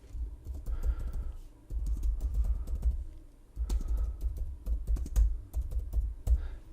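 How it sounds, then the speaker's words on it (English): A computer keyboard clatters under fast typing, rapid close-up key clicks arriving in bursts with short pauses between them. "I can either type in what I want to say"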